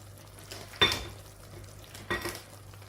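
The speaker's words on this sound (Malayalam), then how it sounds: "ഇനി നമുക്ക് അടപ്പ് തുറന്ന് നന്നായി ഇളക്കി കൊടുക്കാം" Lemon and dates pickle being stirred in a pan over a medium to low flame, two short scraping stirs about a second apart, close by over a low steady hum.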